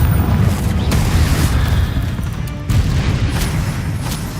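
A Confringo blasting spell explodes in a wizard video game, a loud sustained rumbling boom with deep low roar and a second burst midway, crackling debris over the top.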